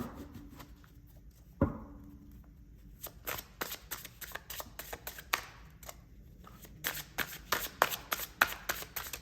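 Tarot cards shuffled by hand, a sharp riffle then a run of rapid papery flicks and bursts, close up, with a brief faint voice early on.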